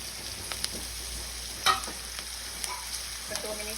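Salted onions frying in a pan, a soft steady sizzle with intermittent spatula taps and scrapes, one louder clink in the middle.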